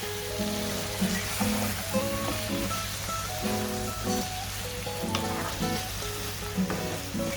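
Chicken roast masala with onion, yogurt and tomato stirred in a pan, a constant loud sizzle broken by repeated rhythmic scraping strokes of the spoon, no voices.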